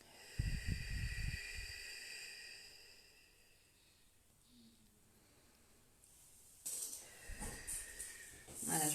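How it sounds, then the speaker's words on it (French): Abdominal breathing during a laughter yoga session, with slow, hissy breaths drawn in and let out close by, one breathy stretch at the start and another near the end, separated by a quieter gap. "Vous prenez trois respirations abdominales"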